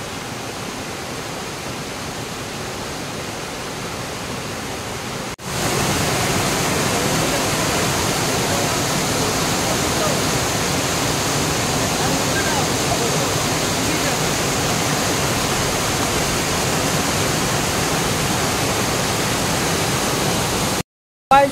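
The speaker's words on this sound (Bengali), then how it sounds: "রাতমোহনা ঝর্ণার কাছে দারুণ ঝর্ণার জল পড়ছে" Steady rushing splash of a small waterfall, Ratmohana falls near Ghatshila, a constant broad roar that jumps louder after a few seconds and holds evenly until it cuts off.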